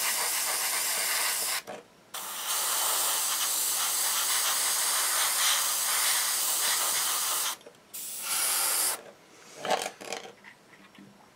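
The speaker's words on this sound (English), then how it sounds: "Judging by the way this is spraying, I may well have the air pressure set a little too low" An airbrush sprays paint with a steady, loud hiss for several seconds, air pressure set a little too low, cuts out briefly, resumes, then breaks into short sputtering bursts near the end.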